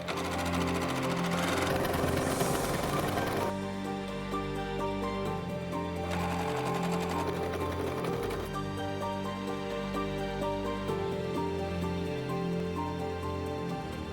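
A sewing machine runs continuously, stitching down a folded fabric hem: a steady, close mechanical whir with a dense motor hum throughout, and a slight change in pace partway through. No one speaks.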